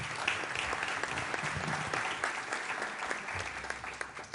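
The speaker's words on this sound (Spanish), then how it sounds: "Espero que los aplausos sean por la calidad de la intervención y no por tenerlo difícil." An audience at a conference panel debate applauds after a speech, dense continuous clapping from a crowd that keeps an even level throughout, with no voices over it.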